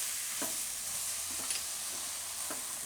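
Soya bhurji pulao is stirred in a hot pan, a constant sizzle and frying hiss with several soft scraping strokes of the spoon at regular intervals.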